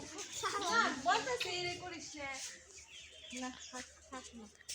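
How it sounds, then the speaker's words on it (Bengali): White farm chickens cluck among the birds while a child and an adult talk close by, their voices mostly covering the clucking. "এগুলা ফার্মের মুরগি"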